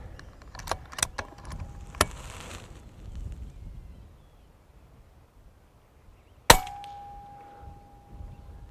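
An air rifle with an NV100plus night-vision scope fires an H&N Hornet pellet at a rabbit 47 meters away on a farm: one sharp, loud crack with a brief metallic ring, preceded by a few softer clicks and clangs in a quiet setting.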